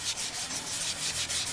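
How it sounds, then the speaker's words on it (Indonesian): Sandpaper is rubbed by hand under firm pressure across a wooden piece being prepared for batik, producing close, steady rasping strokes in a quick regular back-and-forth rhythm. "Agak ditekan dan semua bagian semuanya kena amplas ya?"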